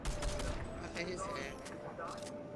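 Gunfire in the Fortnite battle royale video game, a dense burst of rapid shots at the start with more scattered reports afterward, heard under players talking over voice chat.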